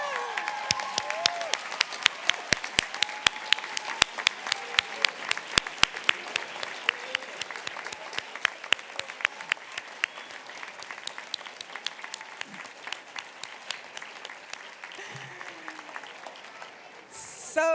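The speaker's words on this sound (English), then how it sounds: "a standing round of applause for our class of" A standing audience applauds graduates of the 2024 class at a dual enrollment recognition ceremony at The Universities at Shady Grove, with steady clapping and sharp individual claps through most of the stretch, tapering toward the end.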